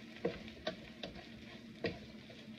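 A spoon stirs chickpea channa masala in a spicy tomato gravy inside a pot. It makes a few distinct, fairly close scrapes and knocks over a faint, steady simmering sizzle, with no talking.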